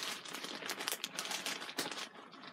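An Amazon plastic mailer being folded over by hand: a quiet, close run of crinkling and crackling with several sharper snaps, alone without talk.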